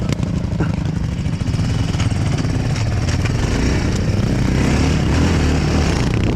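A Chinese enduro motorcycle labours uphill, its engine loud and strained with a rough, chattering mid-pitched drone that holds steady throughout, close to the listener.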